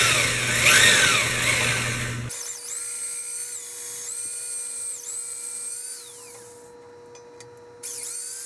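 Drill bit boring into a frozen axle bolt on a Wheel Horse Model 401 tractor: a loud, whining high-pitched drilling that sags and recovers as the bit bites, with a short pause near the end before it resumes.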